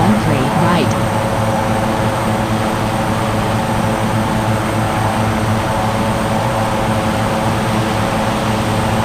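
An airliner cleared for takeoff in the air traffic control game Unmatched Air Traffic Control, giving a steady, loud engine roar that holds level throughout with no pauses.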